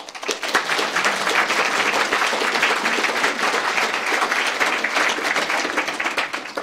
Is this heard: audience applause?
yes